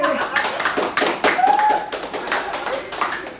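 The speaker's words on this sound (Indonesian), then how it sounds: "Tepuk tangan lagi." Dense crowd clapping for a live film cast event, a steady rapid patter of many hands with cheering voices mixed in throughout.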